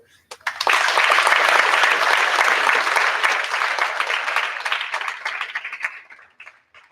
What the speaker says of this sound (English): give a large round of applause to Principal Condon